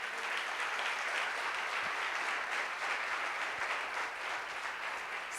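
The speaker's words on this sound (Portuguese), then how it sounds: "Você pode dar uma salva de palmas para o Senhor?" Steady applause from a church congregation during a worship service, a dense continuous wash of clapping that holds at an even level throughout with no voices on top.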